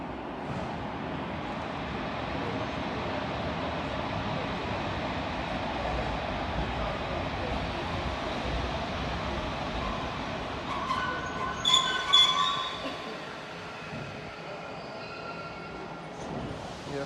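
An EU07 electric locomotive approaching on the tracks at Wrocław Główny station ahead of coupling, a steady low rumble with a brief metallic squeal and clatter near the end.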